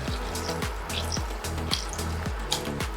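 Cornflour-and-water slurry is poured into a braising sauce for lamb shanks, giving a soft run of liquid drips and small splashes, close and fairly quiet, with no talking.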